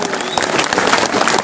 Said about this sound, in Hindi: अहाँ सब जोरदार ताली बजाओ